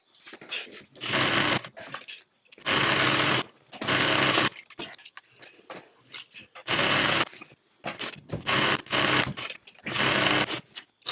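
Sewing machine basting tote bag panels together, running in repeated short loud bursts of rapid stitching chatter with brief quiet gaps and small handling noises between runs.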